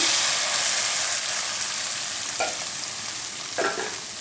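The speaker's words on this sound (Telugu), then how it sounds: "ఈ నూనెలోనే ఇంకా నూనె వేయాల్సిన అవసరం లేదు ఇందులోనే ఉల్లిపాయ ముక్కలు వేసేస్తాను" Chopped onion pieces sizzle and fry in hot oil in a pan, a steady loud hiss with a couple of brief stirring scrapes near the end.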